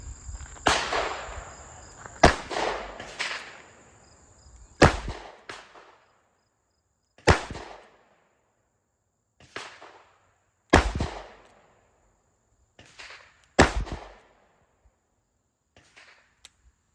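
Sharp revolver gunshots from .38 Special and .357 Magnum loads, about ten loud cracks spaced irregularly across the stretch, some in quick pairs, each with a short decaying echo and no talk between them.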